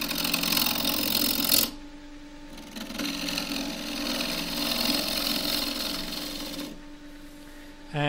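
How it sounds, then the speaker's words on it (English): Wood lathe turning a roughed-out cylinder with a half-inch spindle gouge, a steady scraping, rasping cut that runs continuously, pauses briefly, then resumes close and fairly loud. "I will be just truing this up using a spindle gouge, half inch spindle gouge"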